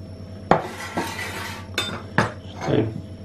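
A knife cuts peeled, boiled carrots into sticks, making about five distinct, close taps and scrapes against the board, spaced irregularly.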